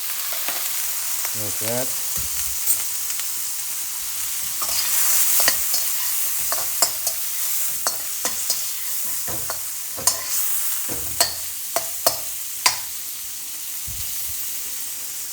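Meat for Chinese takeaway-style special fried rice hits a hot pan, a loud close sizzle and hiss with a steam burst, followed by rhythmic spatula scrapes and taps; a brief voice is heard at the start.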